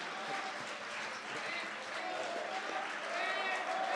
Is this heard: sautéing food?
no